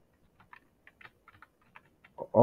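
Light, sparse keyboard clicks from computer typing, spaced irregularly and fairly quiet, then a louder burst of other noise at the very end.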